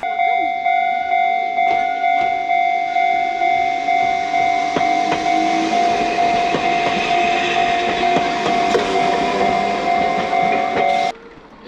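An Enoden (Enoshima Electric Railway) train sits idling at a station near Enoshima, a steady electrical hum and whine with scattered clicks and hiss running continuously and loud, stopping abruptly at the end.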